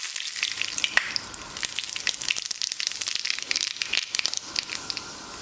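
Mustard seeds crackle in hot coconut oil, a dense run of sharp pops and spits over a steady sizzle, close and busy throughout.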